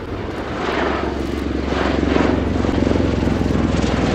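A USAF CV-22B Osprey tiltrotor flying a display at RIAT 2019, its loud, continuous engine and rotor roar holding steady and close the whole time.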